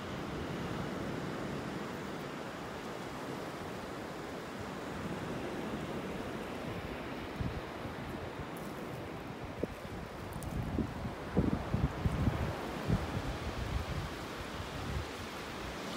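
Ocean waves washing onto a shell-strewn beach with wind buffeting the microphone, a steady broadband roar throughout with a few gusty low thumps late on, no voices.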